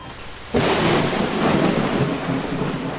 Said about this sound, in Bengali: বজ্রপাত এবং হালকা ভূমিকম্পের সাথে শহরে একটি বিশাল ঝড় এসেছিল